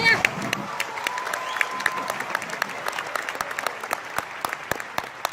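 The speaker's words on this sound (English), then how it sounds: "Can you give all of yourselves one big applause?" Audience applause at a OneCoin event in London, a dense burst of many hands clapping that starts loud and stays steady, while a voice speaks over it at the start.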